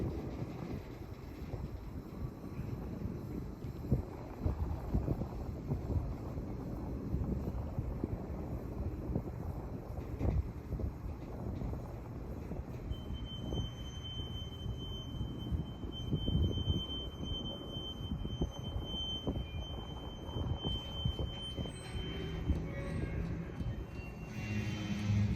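A westbound Norfolk Southern manifest freight train rolls past a road crossing with lowered gates, its steady low rumble and clatter of cars continuing throughout, with wind buffeting the microphone and a faint high tone appearing partway.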